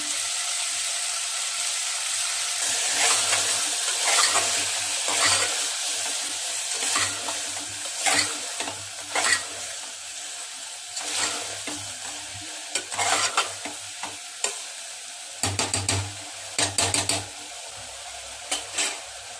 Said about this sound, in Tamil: இப்போ எல்லாம் நல்லா வதக்கிட்டோம்.